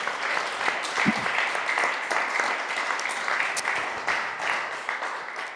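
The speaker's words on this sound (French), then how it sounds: "On vous applaudit encore une fois." An audience at a parish gathering in Charente applauds, a full, even burst of many hands clapping that carries on for several seconds at close range, with scattered louder claps standing out.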